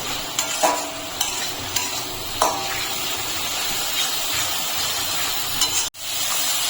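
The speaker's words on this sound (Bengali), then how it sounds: "এখন আমি মশলাটাকে ভালো করে কষিয়ে নেব।" A spice paste of ground coriander, turmeric and Kashmiri chili powder fries in a pan for a vegetarian raw banana curry, with a steady close sizzle and occasional spoon scrapes as it is stirred.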